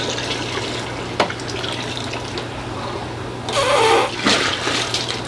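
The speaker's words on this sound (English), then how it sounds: "I just empty out my siphon." Water from an aquarium siphon drains into a 5-gallon bucket, a steady close trickle that surges into a louder gushing splash for about a second near the end.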